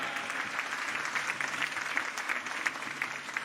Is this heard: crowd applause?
yes